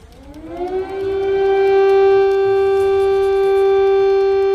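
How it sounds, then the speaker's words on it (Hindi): An air raid siren in Kyiv during the Russian attack winds up from a low pitch to a loud, steady wail that holds for several seconds, with no voices. "इस समय एयर रेड के सायरन बज रहे हैं"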